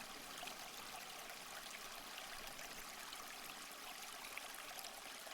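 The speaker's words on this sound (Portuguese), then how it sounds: "E aí está a fonte d'água." Water trickles steadily through a small rustic fountain built from cement and styrofoam, making a soft, continuous babble with no other sounds.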